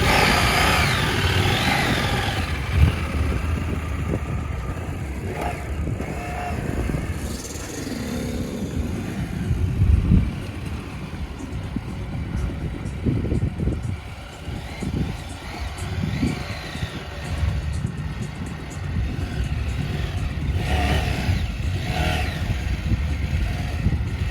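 An enduro motorcycle engine revs on a sandy desert hard enduro trail in Kuwait, rising and falling in loud uneven bursts under steady broadband rumble, with a few sharp surges between about 2 and 17 seconds.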